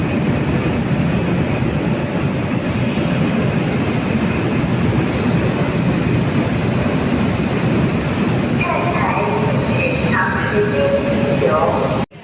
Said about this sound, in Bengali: এখানে সব বুলেট ট্রেন চলে